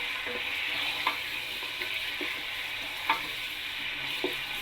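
Chicken pieces and whole garlic sizzle in a hot pan for a tomato chicken dish, a bright steady hiss broken by a few spoon-stirring knocks, with no talking.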